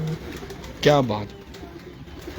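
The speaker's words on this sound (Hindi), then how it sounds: "बहुत ही अच्छा कबूतर है" A pure-bred racing pigeon gives one brief, throaty coo close by, amid a voice and low background murmur.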